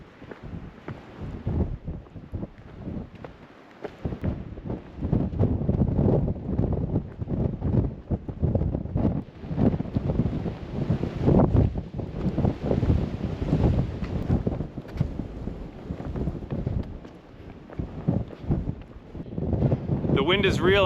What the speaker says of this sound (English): The wind is real out here today. It is super windy.